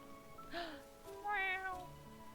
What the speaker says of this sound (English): Okay, the cat does not want to be pet.